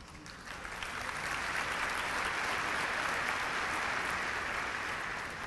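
An audience at a peace summit with the Dalai Lama and Sister Joan Chittister at Emory University breaks into sustained applause, a dense, even roar of clapping that swells and holds for several seconds.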